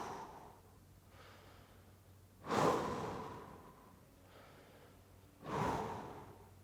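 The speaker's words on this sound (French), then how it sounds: "5 respirations dans cette position pour venir étirer les fessiers." Two deep breaths taken while holding a glute stretch in a prehab and cardio workout, each a strong whooshing exhale that swells and then slowly tapers off, close and clear, with quieter breathing in the gaps and no talking.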